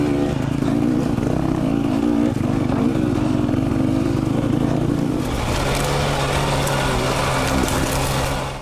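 A dirt bike engine drones loud and close, revving steadily while riding a tight single-track trail in Utah, with the pitch shifting as the rider opens up the throttle.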